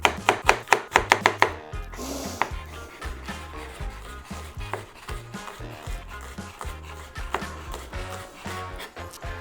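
A knife chops shallots and black garlic on a board, opening with a quick run of crisp, loud knocks, then settling into slower, irregular cuts and scraping taps, nearby with no speech.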